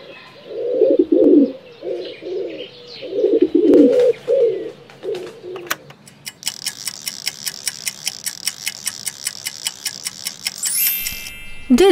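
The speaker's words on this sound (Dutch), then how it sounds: "De duif." Pigeon cooing, a run of close, clear low rolling coos in a steady series, followed by a rapid ticking clicking pattern.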